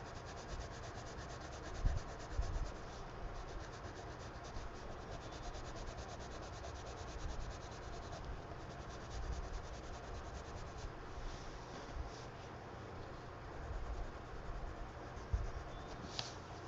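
A colored pencil rubs steadily across paper while blending skin tones in an adult coloring book, a soft continuous scratchy hiss with faint taps, quiet and close, with no voices.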